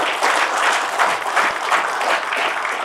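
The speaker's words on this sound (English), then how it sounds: "Let's give it a round of applause." An audience at a networking event claps steadily after a keynote speech, a dense even patter of applause filling the whole moment with no voices.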